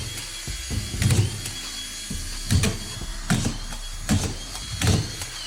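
A power drill drives screws through plasterboard into a ceiling, with about five short whirring bursts spaced a second or so apart, each ending in a tightening grind, fairly close with quiet pauses between.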